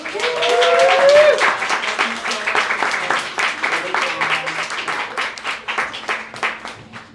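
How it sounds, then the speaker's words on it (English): An audience claps and cheers for a volunteer at a live magic show in Philadelphia. The applause is loud and dense at first with a few voices rising over it, then thins into scattered, weaker clapping. "So, can you all give Brianna a big round of applause?"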